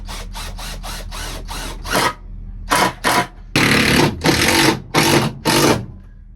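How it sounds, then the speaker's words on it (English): A power drill drives screws into a DIY workbench in a small workshop: about ten loud, whirring bursts, fast and closely spaced at first, then longer runs with short pauses between them. No talking. "Should probably back off to the drill instead of using the driver here."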